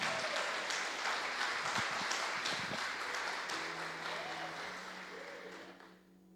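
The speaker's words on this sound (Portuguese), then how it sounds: "Dê um aplauso ao Senhor pela vida dela." A church congregation applauding steadily, a dense wash of clapping from many hands that gradually fades toward the end.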